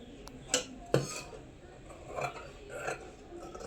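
Scissors snip through fabric while a kurti is cut out along a stitched line, giving a couple of sharp, close clicks early on, then softer, scattered cutting sounds in a quiet room.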